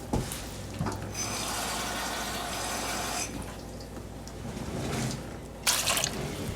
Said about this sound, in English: And then you add 2 cups of water.